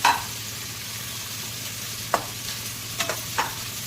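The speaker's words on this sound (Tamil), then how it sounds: "இப்போ வரமிளகா போட்டுடலாம்." Dried red chillies fry in a pan with a steady, soft sizzle, broken by a few sharp clicks of stirring or spattering.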